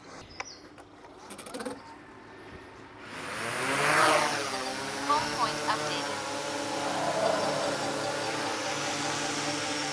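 A DJI Mavic 4 Pro drone spins up and lifts off, its motors rising from faint clicks into a smooth, fairly quiet whirring hum that wavers in pitch as it climbs and hovers nearby.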